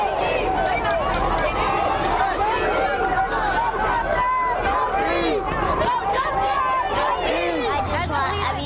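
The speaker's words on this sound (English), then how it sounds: "you can hear the protesters now chanting" A large crowd fills the space with a steady roar of overlapping voices and shouting, continuous and loud, with no single voice standing out.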